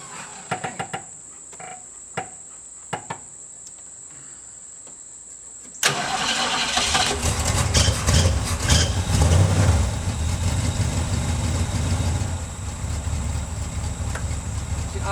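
A 1971 Ford Mustang Mach 1 starting from cold: a few quiet clicks and taps, then the engine catches abruptly and settles into a loud, rough, rumbling idle that continues to the end.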